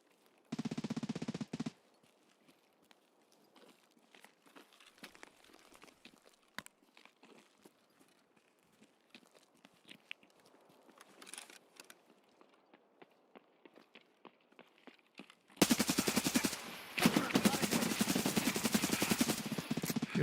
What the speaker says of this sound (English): Someone's shooting an MP7.